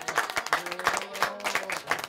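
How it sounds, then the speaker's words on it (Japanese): Audience applause follows a close-up card magic trick performed in Tokyo, with dense clapping filling the whole stretch at moderate loudness, faint voices mixed under it. "改めて大きな拍手"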